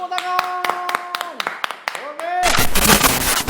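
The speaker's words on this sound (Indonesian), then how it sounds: "Tepuk tangan." An audience claps for a guest taking the stage. The first half holds scattered claps under a sung or sustained voice, then dense, loud applause takes over to the end.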